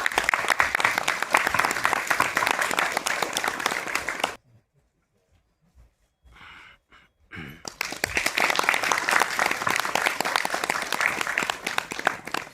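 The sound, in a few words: applause from an audience at a ceremony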